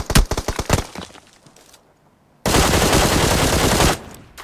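A quick series of sharp shots in the mobile battle royale game PUBG is followed by silence, then a long, dense burst of rapid-fire gunfire that fades out.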